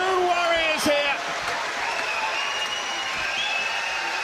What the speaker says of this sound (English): the crowd rises to 2 warriors here